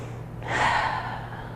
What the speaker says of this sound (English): This is thoracic breathing.